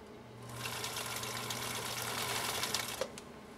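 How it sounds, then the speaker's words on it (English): A Husqvarna Viking Type 21 sewing machine stitches on cam B with a steady, fast mechanical whir and rapid ticking for about three seconds, close and alone, then stops with a click. "Final stitch on Jon Smith's Type 21"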